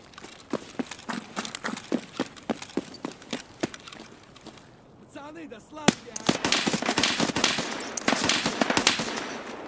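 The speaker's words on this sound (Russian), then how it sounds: "Пулемет уже по мне стреляет." Rapid bursts of machine gun fire in the shooter game Escape from Tarkov, sharp repeated cracks in quick rhythm, fairly close, with a louder denser stretch of shots near the end.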